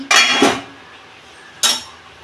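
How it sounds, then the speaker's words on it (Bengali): A metal lid is lifted off a cooking pot of egg curry, two quick close clanks, a pause, then a third clink. "দেখুন বন্ধুরা, ঢাকনা খুলছি।"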